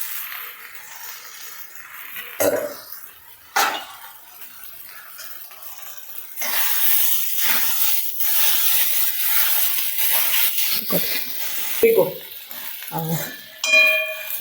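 Dry, separated sabudana (tapioca pearls) stirred with chillies in a pan, giving soft scraping and rustling strokes with a few sharper scrapes, fairly close and moderately loud, with no talking.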